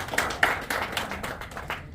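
A small crowd at a Sri Guru Nanak Dev Ji birthday event in NSW Parliament gives brief, scattered applause, a light patter of clapping that stays modest in volume.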